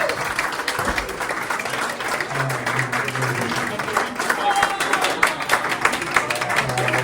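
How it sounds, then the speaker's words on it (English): At a Rotary club holiday party, guests applaud an anniversary couple with a sustained, lively clatter of clapping from a crowded room, and a low murmur of voices runs beneath. "Big round of applause for the King and the Queen and fellows, 55 years."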